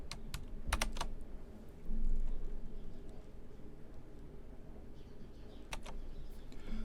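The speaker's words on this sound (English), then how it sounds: "now I'm just going to left click because I'm happy with that" A computer mouse clicks while drawing in CAD software, giving a few sharp, close clicks, some in quick pairs, over a quiet hum of room background.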